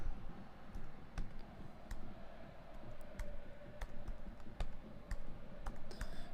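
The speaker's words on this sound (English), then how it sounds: "Yeah, typing away here, troops." Someone types on a computer keyboard during a live football stream of Dundee United against Rangers. The keys make a quick, irregular stream of nearby clicks over a steady low hum, with no one speaking.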